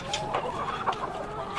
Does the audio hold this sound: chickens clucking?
yes